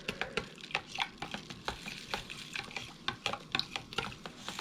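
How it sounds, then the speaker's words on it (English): A lye mixture for a Bramble Berry soap kit is stirred steadily in a container, giving a continuous run of quick scraping, clinking strokes at close range with no talking. "Now, when mixing this, you want to constantly stir it until it kind of gets dissolved."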